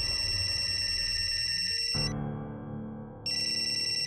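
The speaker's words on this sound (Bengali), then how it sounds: "ল্যাবের ফোন এসেছে।" A telephone rings with an electronic ringtone for a call from a lab. A bright repeating tone sounds, cuts out briefly, then resumes, with no speech.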